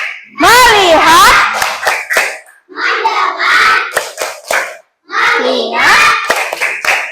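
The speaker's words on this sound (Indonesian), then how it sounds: "Ayo kita tepuk fokus dulu ya. 1, 2, 3, tepuk fokus." A class of young children claps a rhythmic focus clap in unison, the claps sharp and close between bursts of a teacher's and children's voices calling out together.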